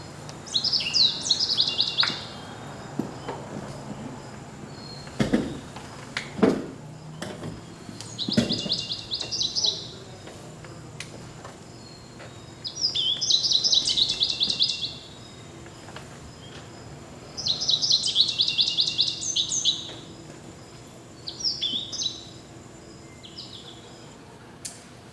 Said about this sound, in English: Here is a raspy sound. That's the American goldfinch.